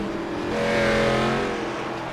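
A race car engine in a racing video game holds a loud, steady roar as it comes through a corner, swelling slightly mid-pass with a faint tire squeal.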